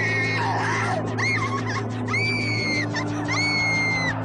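A woman's high, piercing screams, several drawn-out shrieks in quick succession, sound as a ghost drags her by the hair from a house toward the forest, over a low droning ambient hum.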